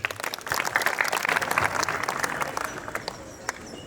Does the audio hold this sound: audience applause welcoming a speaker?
yes